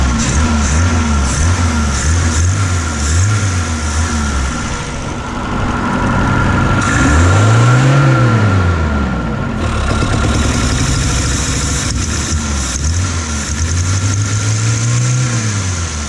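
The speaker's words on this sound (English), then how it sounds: "Probably should have revved it up longer." A 1972 BMW 2002 engine with fueling issues idles steadily, then revs up in two rising-and-falling surges, with a third smaller rev near the end.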